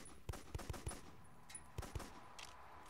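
Several sharp gunshots from a sniper rifle in an online shooter game during a Halloween event, fired in two quick bursts of three or four shots with a short pause between, loud and close over faint game ambience.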